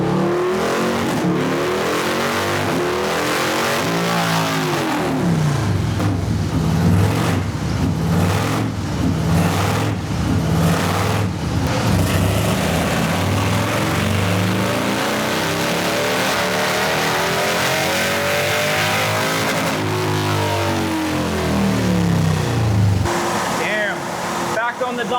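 A Harley-Davidson Low Rider ST motorcycle on a dyno during tuning, revving loud and close in repeated long rising and falling sweeps that climb high and drop back, with a brief idle near the end.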